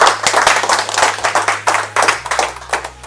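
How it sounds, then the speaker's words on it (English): A live audience at a motivational talk claps in quick, rhythmic bursts, loud and close, with an underlying hum that drops away partway through. "Can we clap for our second friend,"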